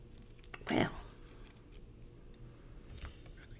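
Scissors snipping ribbon tails on a handmade autumn greeting card, one close crisp cut followed by a fainter second snip, with low room noise.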